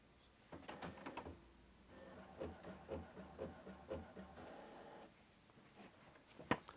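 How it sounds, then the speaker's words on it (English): An HP printer printing a photo gives a series of mechanical clicks and thuds, then a rhythmic whirring, stepping feed pattern lasting about three seconds, then a final sharp click; close and moderately quiet, no speech. "the HP printer scans the picture, finds the red eye, automatically fixes it, and all we have to do then is press the print button."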